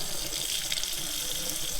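Shower water running steadily in a camper van with a tankless hot water heater, a constant close hiss of spray throughout, with no talking.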